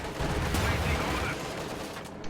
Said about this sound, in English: Panzer IV takes a shot at the mortar, but takes a bit of damage from the T-34 right there